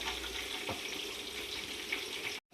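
Chicken 65 fries in hot oil with a steady, close sizzle and crackle that holds throughout, then cuts out briefly at the end.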